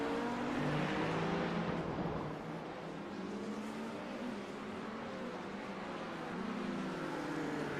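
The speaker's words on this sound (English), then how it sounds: "there's a faster class car approaching" Engine drone of a Le Mans endurance race car in a racing video game, a steady, moderately loud whine with shifting pitch as a faster class car closes in, with no talk.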